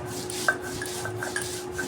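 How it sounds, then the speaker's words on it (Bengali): Mustard is ground very fine into a paste for a mango mix, giving rhythmic scraping and rubbing strokes of a grinding stone or pestle, close and moderately loud, with occasional sharper knocks. "একদম মিহি করে আমি বেটে নিব।"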